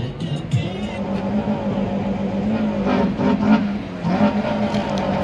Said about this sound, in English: Somebody over there trying to burn an engine